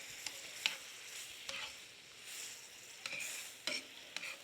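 Chicken piccata sauce with lemon juice being stirred in a pan, a faint low simmering hiss with several sharp clinks and scrapes of a utensil against the pan.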